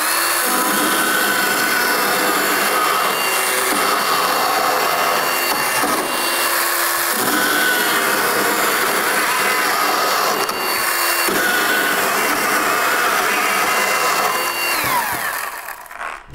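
A cordless battery pruning saw, 12 or 18 volt, cuts through wood with a loud, steady buzzing rasp, its tone dipping briefly a few times as the blade bites, then winding down at the end.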